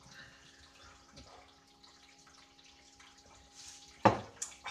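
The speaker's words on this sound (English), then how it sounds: "Just draining now" Liquid draining during home beer brewing: a faint, steady trickle under a low electrical hum, ending with a sharp clunk and a couple of quick knocks.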